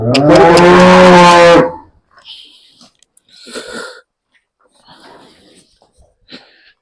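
A dairy buffalo on a village farm in Ghadka, Tarn Taran, Punjab, lets out one loud, close, drawn-out moo, followed by quieter snorts and breathing.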